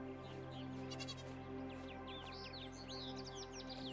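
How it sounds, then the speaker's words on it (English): Sheep in the video game AER: Memories of Old bleat in a few short, wavering calls over a steady ambient game soundtrack, with faint birdlike chirps scattered through. "Oh, look at the little sheep. Oh, they even make a noise."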